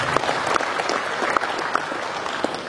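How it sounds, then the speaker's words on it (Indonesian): Crowd applause for the Regent of Teluk Bintuni at a formal meeting in West Papua, steady dense clapping from many hands with scattered louder claps, sustained throughout. "mari kita berikan aplaus bersama"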